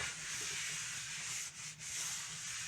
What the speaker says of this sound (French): Avec un sopalin, on vient nettoyer, nettoyer la pâte la crêpière.